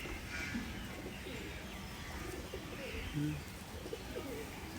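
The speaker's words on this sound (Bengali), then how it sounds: "এই যে পর এগুলো বাড়ির উড়ানো কবুতর" Imported Madrasi pigeons coo softly at close range, with scattered low coos and a few faint chirps over a steady background hiss.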